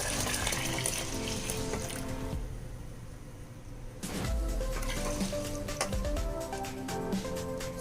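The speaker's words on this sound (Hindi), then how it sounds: "इसके अंदर हम अब दूध डाल देंगे" Coconut milk pours into rice in a rice cooker while cooking Bhatkal khichdi, a continuous liquid splashing and trickling that pauses briefly midway, then resumes with clinking over a kitchen background.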